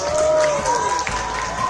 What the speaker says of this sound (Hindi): तालियों से पूरा हॉल गूंज उठा